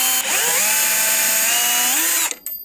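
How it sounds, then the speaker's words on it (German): A power screwdriver backs out two screws on a light fixture, its whine loud and close, dipping and rising in pitch through a sustained run of about two seconds before cutting off with a brief clatter. "Jetzt schrauben wir mal auf. Super simpel, hier die beiden Schrauben lösen."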